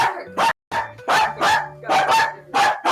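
A streamer's voice imitates a dog barking, giving a run of five or six loud, close, sharp barks in quick irregular succession.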